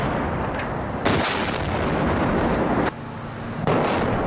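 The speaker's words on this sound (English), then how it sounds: "Viewers can see the precision timing of the blasts as sections of the bridge fold, drop, or tilt exactly as planned." Explosive demolition charges go off to bring down a bridge, heavy booming blasts that cut in abruptly and rumble on, loud and close, with a brief lull before a final blast.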